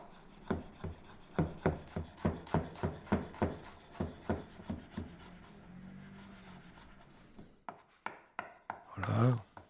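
Tarragon being chopped with a knife on a wooden board, a run of about a dozen crisp, evenly spaced thuds, then a pause and a few scraping and brushing sounds.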